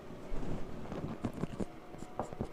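Chalk tapping and scraping across a classroom board in short, uneven strokes, fairly close and moderately loud, with no voice over it.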